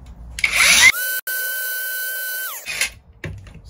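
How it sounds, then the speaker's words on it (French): A drill bit being resharpened with a power tool: a brief rising whine, then a sustained high grinding tone for about two seconds that drops off, followed by faint handling noise. "Bon, je vais retailler une mèche. On va retailler dans le sens du filet."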